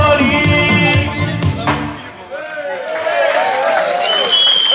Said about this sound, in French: Applaudissements pour Jean-Marc, s'il vous plaît.